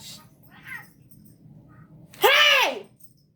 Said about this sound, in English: I have 2 cats, and they're fighting.